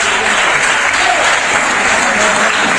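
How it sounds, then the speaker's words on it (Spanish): A radio show audience applauds at the end of a live performance, dense steady clapping filling the whole stretch at close, even loudness. "Muchísimas gracias a todos por los aplausos"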